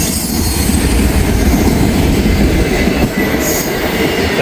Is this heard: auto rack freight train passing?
yes